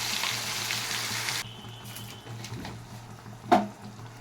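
A ground spice paste of ginger, garlic, onion, chilli, cumin and turmeric fries in a pan, a loud close sizzle that drops to a softer crackle partway through, with a brief stir or clank near the end.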